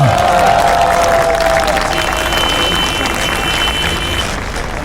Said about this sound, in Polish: nadrabiajmy oklaskami. Brawa!